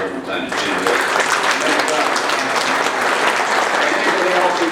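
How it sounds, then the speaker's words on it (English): A room of people gives a sustained, loud round of applause for a political candidate at a local election meeting, dense clapping continuing evenly with some crowd murmur underneath. "So give a round of applause every time to Jim Woods"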